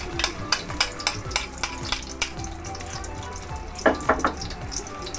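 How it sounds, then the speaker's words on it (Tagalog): Egg being stirred in a frying pan, with a rapid series of sharp utensil scrapes and taps against the pan over a steady background hiss, then a brief cluster of clatters near the end. "At halu-haluin."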